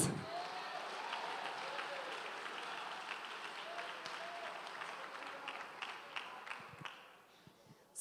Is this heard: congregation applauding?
yes